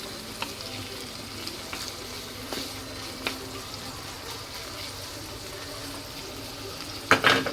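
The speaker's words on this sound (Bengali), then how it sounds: "একসাথে ভেজে নিব। সাথে আমি এই যে গাজর আর ক্যাপসিকাম কুচিটাও দিয়ে দিব।" Chopped carrot and capsicum fry in a pan with green chilli and sliced sausages, a steady low sizzle and hiss running throughout, punctuated by a few soft clicks and a louder clatter near the end.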